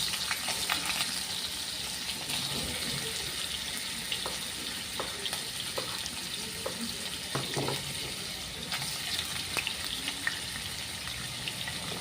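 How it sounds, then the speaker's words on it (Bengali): Paneer pieces fry lightly in hot oil, a soft continuous sizzle with scattered pops and faint clicks of a utensil, close and fairly quiet, with no one speaking. "পনিরগুলো আমি তেলে হালকা করে ভেজে নেব"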